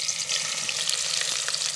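Onion sizzling in hot oil in a pan at a campsite, a steady close crackling hiss with scattered small pops, no talk.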